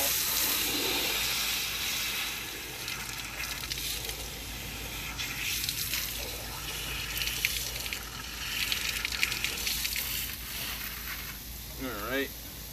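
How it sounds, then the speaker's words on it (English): Hard well water rushes steadily into a sprayer bottle, a continuous hissing gush that fills the scene, with a brief voice briefly heard near the end. "I'm gonna go ahead and fill this baby up with some water."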